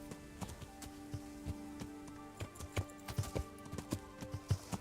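Horse hooves clip-clop at a steady walking rhythm in the medieval video game Kingdom Come: Deliverance, close and distinct over a low, constant ambient music bed, with a brief whinny-like tone.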